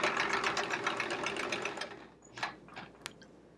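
A sewing machine stitches free-motion quilting swirls in a fast, steady whirring hum for about two seconds, then stops, leaving a few faint clicks and a small tap.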